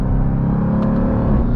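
A 710-horsepower 2023 Dodge Durango SRT Hellcat SUV in track mode lets out a loud, dense exhaust rumble and snarl as it shifts up under hard acceleration, heard from inside the cabin with no talking.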